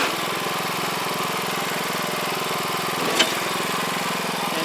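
A BCS walk-behind tractor with a tiller or power harrow attachment runs steadily in a market garden, its engine chugging evenly and close, with one brief clank near the end.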